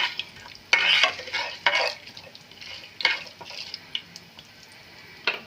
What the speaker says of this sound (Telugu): పోపులు వేగుతున్నాయి కదండి